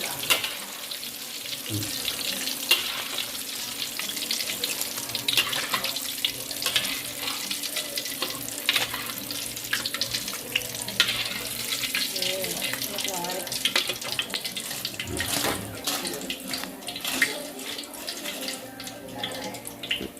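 Tilapia coated in dry flour batter frying in hot oil, a dense continuous crackling hiss that runs throughout at steady loudness, with occasional kitchen clatter and faint voices talking in the background.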